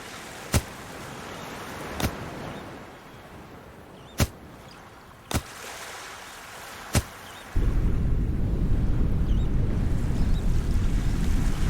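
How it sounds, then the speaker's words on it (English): A dinghy on sea waves in the adventure game Secret Files: Sam Peters. Several sharp isolated clicks sound over a quiet hiss, then a loud, steady rush of water and motion abruptly starts and continues. "Let's get this dinghy back on the high seas."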